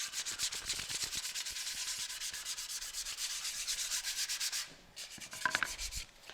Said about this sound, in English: take your sandpaper, take a few minutes, and just clean up these rough edges